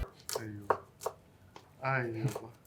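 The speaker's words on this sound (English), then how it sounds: "then we're just going to do very thin chops" A knife makes very thin chops through the white base of an ingredient on a cutting board: a few quick, crisp cuts spaced under close talk from people nearby.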